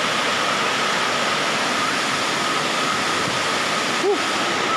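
Aliw Falls in Luisiana, Laguna pours in a steady, loud, broadband roar of falling water that stays constant throughout, with a brief faint vocal sound near the end.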